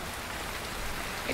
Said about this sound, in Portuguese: tá chovendo aqui